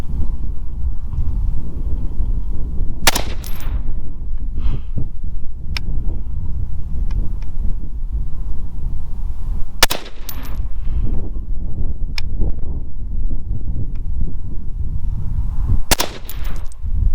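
Steyr AUG rifle firing Lapua 69 grain Cenar rounds during an accuracy test: three loud, sharp shots spaced several seconds apart over steady wind noise, each with a short crack and trailing echo.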